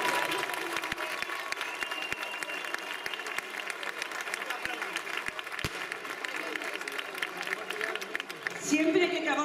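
Crowd applauding for a children's cancer association at a town festival in Albelda de Iregua, a steady, fairly distant patter of clapping mixed with crowd murmur, with a voice briefly at the end.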